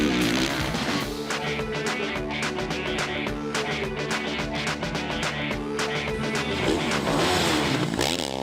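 A race car engine revving hard at the start of a race, loud and continuous with rapid rises and falls in pitch, dense mechanical roar filling the whole stretch.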